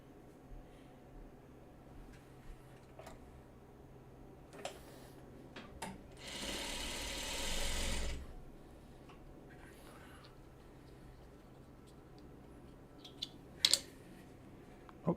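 Sewing machine running in one sustained burst while stitching quilt block pieces for a Farmer's Wife Buckwheat block, fairly loud against a quiet room with small handling clicks before and after.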